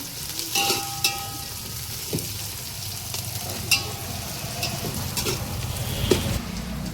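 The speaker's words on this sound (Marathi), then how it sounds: "आता आपला कांदा आहे ना छान भाजलाय" Chopped onion with green chilies and whole spices sizzles in a pan for chicken biryani gravy, a steady soft frying hiss broken by occasional crackles and stirring clinks.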